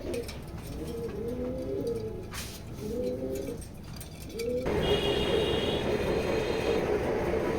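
Domestic racing pigeons coo in several soft, rounded bursts close by, with pauses between calls, before a steady rumbling background noise rises in the second half and masks them.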